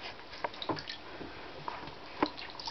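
A child splashes bathwater in a tub: a few small, sharp splashes and drips spaced irregularly over a quiet, faint background, with no talking.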